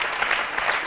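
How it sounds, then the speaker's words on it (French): An audience applauds in a TV studio during a telepathy act, a dense, steady burst of clapping heard briefly. "Je pense qu'on peut vraiment applaudir Sarah très très fort."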